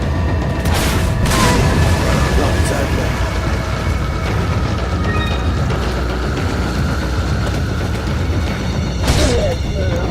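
Rocket launcher firing in Resident Evil 4, heavy booming blasts over dense rumbling game noise, with a sharp burst near the start and another near the end, loud and close, with talk mixed in.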